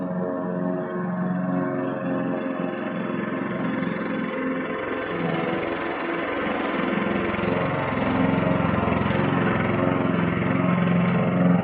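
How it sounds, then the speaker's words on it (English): An older self-propelled Honda lawnmower with a single-cylinder overhead-valve engine runs steadily close by, a continuous buzzing drone with a strong low hum that grows slightly louder toward the end, with no voices over it. "It's just an older Honda lawnmower that I picked up at a garage sale that's self-propelled"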